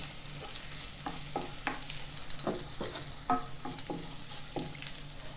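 Long eggplant is stir-fried in a pan. A soft sizzle runs underneath while a spatula scrapes and clatters in repeated irregular strokes, close and moderately loud, with no talking.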